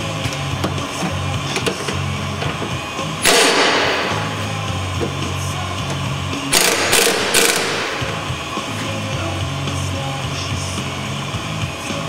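A ratchet loosens fittings to remove the worn upper track rod from a car suspension, with two bursts of rapid clicking ratcheting against a steady workshop hum; no one talks.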